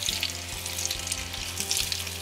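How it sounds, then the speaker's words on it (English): Miniature chicken nuggets fry in hot oil in close-up, a busy sizzle of crackles and pops over a steady hiss, with a faint stirring knock now and then. "Now let's get a close-up of them frying."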